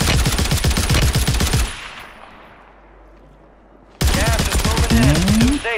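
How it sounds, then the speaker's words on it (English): Gunfire in the Warzone video game with a sniper shot whizzing past a player's head, loud dense shots and impacts in close bursts, a sudden near-silent gap, then more loud firing and whooshing sweeps. "Oh, the sniper shot whizzes past his head."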